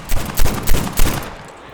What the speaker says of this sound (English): Headshot both zombies with a machine pistol.